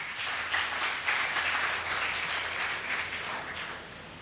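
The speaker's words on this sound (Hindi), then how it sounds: "जोरदार तालियां" A church congregation bursts into enthusiastic applause during a sermon, a full, steady wave of clapping that swells early, holds, and then begins to thin toward the end, with no speech over it.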